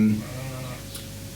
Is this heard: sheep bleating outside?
yes